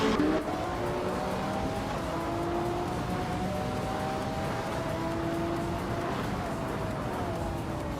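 Race cars roar around the track in a racing video game, a dense, steady engine drone with rising and falling whines from several cars, close and continuous throughout.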